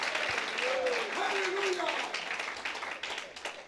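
Applause from a church congregation, a steady wash of many hands clapping through the whole stretch, with a voice drifting over it partway through.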